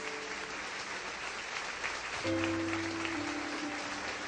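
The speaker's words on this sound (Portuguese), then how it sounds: "Pode aplaudir bem forte a esse Deus" A church congregation applauds steadily through a worship service, a dense wash of clapping sustained from start to finish while sustained keyboard chords sound underneath.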